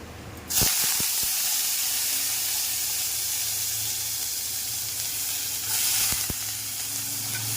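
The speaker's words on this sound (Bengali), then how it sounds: "আলুটা ভেজে নিয়েছি। এখানে তেল দিয়ে একটু এটাকে ভেজে নিই।" Potatoes frying in hot oil in a pan hiss loudly and steadily after an abrupt start, close by, with a few sharp utensil clicks early and later.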